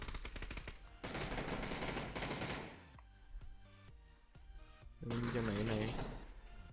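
Bursts of automatic gunfire in the PUBG battle royale game, loud rapid volleys in two long stretches with sparser single shots between, while players talk over the action.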